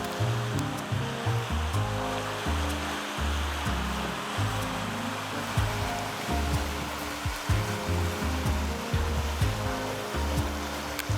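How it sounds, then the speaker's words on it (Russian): A stream flows near a sandy beach, giving a continuous rushing, burbling wash with low rumbling underneath and no voices. "И какой-то ручей идет"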